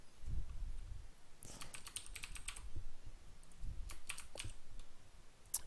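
Keys clatter on a computer keyboard in quick, uneven bursts of clicks with short gaps between them, quiet and close, with no talking.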